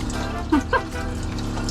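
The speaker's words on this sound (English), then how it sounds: "I've put a bunch more water down the toilet." Water rushing steadily down an RV toilet, a continuous even wash of flow with a couple of brief clunks near the start.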